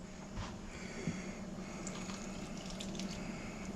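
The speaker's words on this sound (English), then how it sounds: "And now we're going to add a little warm water." Warm water, about a cup, poured into a pan of seasoned gravy for hamburger steak with mushroom and onion gravy, giving a steady running pour that holds throughout.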